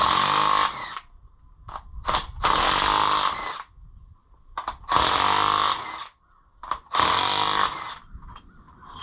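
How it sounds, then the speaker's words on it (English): Impact wrench loosening cylinder head bolts on an Oliver 1365 tractor engine, four loud close bursts of rapid hammering whir about a second each, separated by short pauses and quieter clicks. "An impact wrench on an Italian head."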